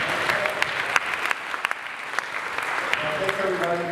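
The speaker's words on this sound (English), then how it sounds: "Give him a big hand of applause." Audience applause at a technology conference talk, a steady wash of many hands clapping at moderate volume, filling the room continuously for a few seconds.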